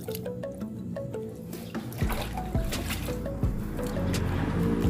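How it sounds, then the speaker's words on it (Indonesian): Water is poured slowly onto a potted plant after its growing medium is changed, a continuous soft trickling and splashing close by, steady and gently rising in level, with no talk over it. "siram secara perlahan"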